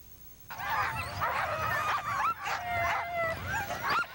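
Sled dogs at a village dog race in Shishmaref, Alaska howl, yip and bark together in a loud, close chorus of overlapping rising and falling cries that runs almost without a break.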